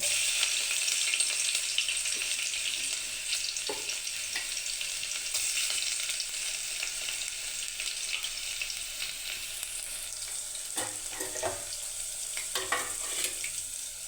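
Garlic fries in a pan with a steady crackling sizzle, close and moderately loud, joined by a few scraping stirs and clinks near the end, with no talk.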